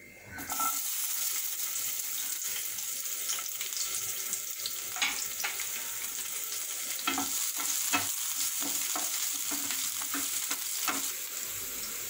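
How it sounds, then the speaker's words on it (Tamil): Sliced onions fry in hot oil with cinnamon and bay leaf, hissing steadily while a spoon scrapes the pan in repeated strokes. The whole pass is close and fairly loud, with no talk. "வெங்காயம் நல்லா வணங்கிடுச்சு."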